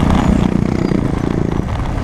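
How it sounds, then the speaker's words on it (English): A Bajaj Dominar motorcycle fitted with a cheap aftermarket exhaust rasps past in a short, loud burst of pulsing engine note. "So you get to hear how a Dominar would sound with some cheap aftermarket exhaust."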